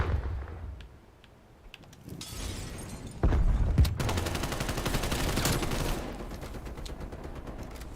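Grenade blasts and bursts of gunfire from a first-person shooter video game, a dense, loud barrage of booms and rapid shots that swells midway and keeps rattling without pause.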